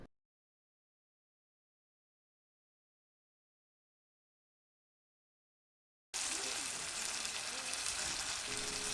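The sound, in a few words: cauliflower and potatoes being stir-fried for fish curry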